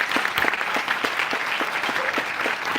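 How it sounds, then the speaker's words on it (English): An audience applauds steadily at a talk on Black art and activism. The clapping is dense and even and continues throughout, with no speech over it. "Can we give her a round of applause?"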